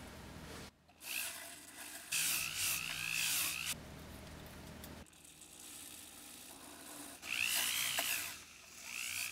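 A power tool polishing two pure silver spinner rings, forged from a one-ounce ingot, whirs and whines in loud bursts broken by pauses, close by and alone with no talking.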